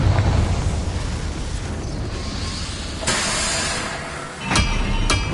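Confringo fire spell explosions in the video game Hogwarts Legacy, a loud rumbling roar followed by a hissing burst and two sharp cracks near the end.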